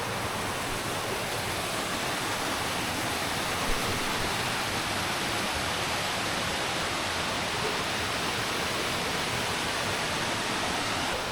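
Pha Daeng waterfall seen from right beside the water on a rainy-season camping trip in Kanchanaburi, a loud, constant rushing roar of falling water, dense and unbroken throughout, with no voices.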